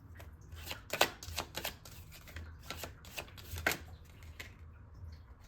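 Tarot cards being shuffled and handled up close, giving a run of crisp, papery riffles and snaps in uneven bursts, with the sharpest flicks near one second and just under four seconds. No voice is heard.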